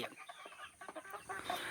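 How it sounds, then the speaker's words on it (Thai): Farm chickens cluck in short, busy bursts at close range while being fed winged termites as a protein supplement, with clucks overlapping and rising toward the end. "ให้ไก่มากินแมงเมา ก็แบบเป็นอาหารเสริมให้กับไก่ของเรานะคะ"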